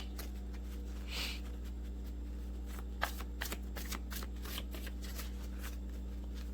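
Index cards being shuffled by hand as oracle cards, a soft, steady riffling rustle with a few sharper snaps, close and alone over a low steady hum.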